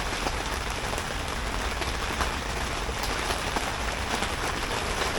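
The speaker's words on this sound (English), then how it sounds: "Oh, the rain." Steady rain falls on an allotment garden, a dense, even hiss of drops with scattered louder taps, close and continuous for the whole stretch with no talking.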